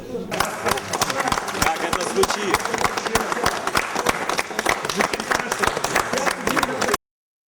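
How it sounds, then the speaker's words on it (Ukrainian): A theatre audience hall full of people claps steadily and loudly, dense overlapping hand claps sustained for several seconds before cutting off abruptly. "Поки що акустику у глядацькому залі перевірили оплесками"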